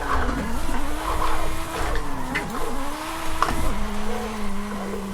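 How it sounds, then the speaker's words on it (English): A short-wheelbase drift car in Forza Horizon 5 slides with sustained tire squeal over a droning engine note that rises and falls as the car swings, loud and continuous. "this thing might be my best drift car"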